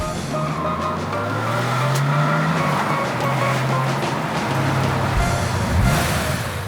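A Porsche 911 from about three decades ago driving on the road, its engine droning steadily and loud inside the cabin, pitch rising and falling with gear changes and throttle.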